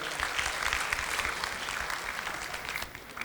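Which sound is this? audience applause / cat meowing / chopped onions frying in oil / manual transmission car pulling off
audience applause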